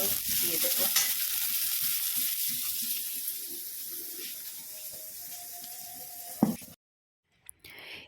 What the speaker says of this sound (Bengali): এই যে সোয়াবিনগুলো ভাজছি এর ভিতরে দিয়েছি লবণ আর হলুদ